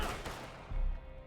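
Pistol gunfire rings out in a western shooter game amid a chaotic firefight, several sharp reports layered over a rumbling, cluttered battle din with a heavier low thump near the end.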